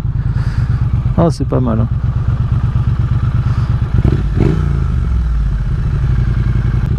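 A 2024 Triumph Speed Twin 900, A2-restricted, drones steadily with a low, even engine rumble throughout the ride, while someone talks briefly over it near the start.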